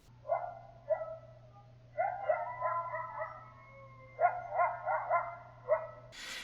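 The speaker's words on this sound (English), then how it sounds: "Barking is thought to be a threat when protecting the den or a kill" A coyote gives a series of short, high-pitched barks and yips in clustered bursts with brief pauses, fairly close, over a steady low hum.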